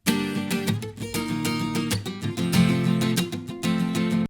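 An acoustic guitar is strummed and picked in a quick, close pattern of ringing chords and plucked notes, played alone without any voices.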